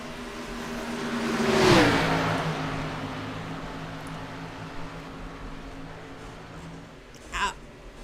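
Race cars in a sim race at Auto Club, one engine revving up and sweeping past with a rising then falling pitch, followed by a steady engine drone and a brief second whoosh near the end.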